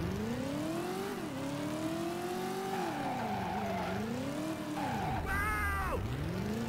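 A car in a racing video game revs hard with rising and falling engine pitch, then skids with a short screech of tires, loud and close throughout.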